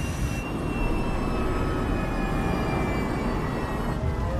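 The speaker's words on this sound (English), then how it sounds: "Then finally the plane begins to slow." Airliner braking hard on the runway after landing, a loud continuous roar of jet engines and rushing noise that holds steady and begins to ease toward the end.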